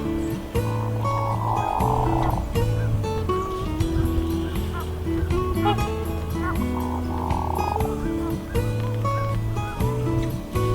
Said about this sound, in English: they make a noise that sounds a whole lot like a frog croaking.